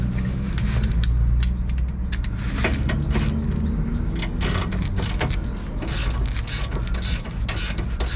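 A 19 mm wrench works a bolt to draw up a Nissan 350Z suspension arm while new banana arms are fitted, giving steady ratcheting clicks and metallic creaks, close and continuous with no talk.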